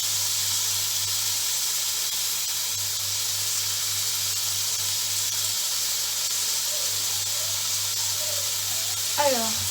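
Beef steaks frying in a pan for homemade hamburgers, a steady bright sizzle and hiss running throughout at a constant level, with a low hum underneath and a brief clatter near the end.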